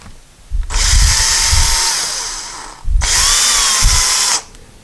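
A power drill pre-drills into delicate woodwork while blinds are being installed, whining in two loud close bursts of about two seconds each, with a falling pitch under load and low thumps.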